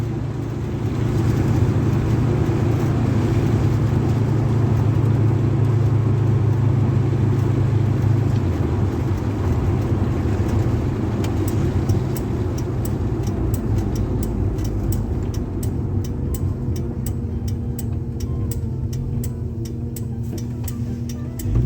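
A 1953 Ford F100 hot rod truck drives with its engine running steadily, a constant low drone and road rumble inside the cab that stays loud and even throughout, without any clear revving.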